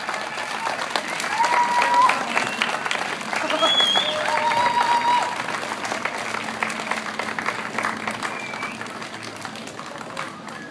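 An audience applauds and cheers steadily after an a cappella song, with claps and whoops filling the room throughout.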